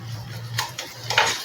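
A utensil scraping and tapping in a pan while egg mixture with butter is stirred and mashed for anda ghotala, giving two or three short, close scrapes over a low steady hum.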